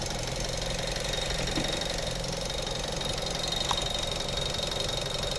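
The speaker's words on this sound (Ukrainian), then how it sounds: "робота двигуна." A 2008 Mazda 6 2.0-litre petrol engine idles steadily up close, a continuous loud rumble with a faint rhythmic knock and no voices.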